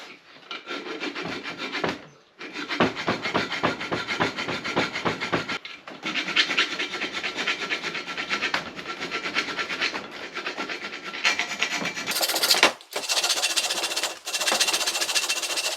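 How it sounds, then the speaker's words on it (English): Continuous rasping strokes of a file rub against metal, rhythmic and close, with a few brief pauses between runs of filing. "Bit of filing."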